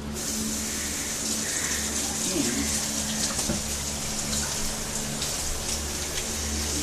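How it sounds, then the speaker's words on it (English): Running tap water splashes steadily into a mixing bowl as it is washed out after making pizza dough, a constant close hiss and patter lasting the whole time. "Now we're going to wash this bowl out."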